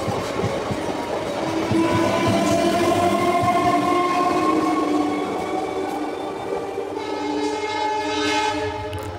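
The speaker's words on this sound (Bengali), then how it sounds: "ট্রেনটি ছেড়ে তার মূল গন্তব্য স্টেশন হাওড়া জংশনের দিকে রওনা দিয়েছে" An EMU local train on the South Eastern Railway runs toward Howrah Junction, a loud steady rumble with rail clatter beneath and sustained horn-like tones rising near the end.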